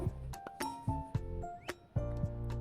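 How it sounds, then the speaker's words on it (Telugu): A metal lid set onto a cooking pot of fenugreek seed tamarind curry gives a few light clinks and rattles with ringing tones, close and fairly quiet, with no talk. "మూత పెట్టేసుకుందామండి ఇప్పుడు"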